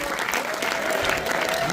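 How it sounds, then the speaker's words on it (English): Applause from a cinema audience at a Paris screening and Q&A, a steady dense clatter of many hands clapping throughout, with a voice speaking faintly over it. "Alors, on applaudit"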